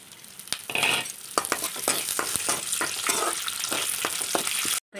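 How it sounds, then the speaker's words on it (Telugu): Spices for Andhra-style gongura chutney sizzle loudly while tempering in hot oil in a pan, with steady frying hiss and frequent clicks of a stirring spoon, cutting off briefly near the end. "ఇప్పుడు పోపు దినుసులు అన్నది వేసేసుకుందామండి"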